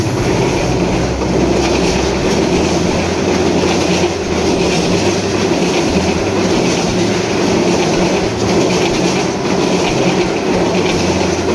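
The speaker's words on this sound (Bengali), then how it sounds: "এই মুহূর্তে প্রবেশ করছে রংপুর এক্সপ্রেস।" A Rangpur Express meter-gauge train arrives at Azimnagar station, its carriages rumbling steadily close by with rhythmic wheel clatter on the rails and a faint squeal over a continuous heavy drone.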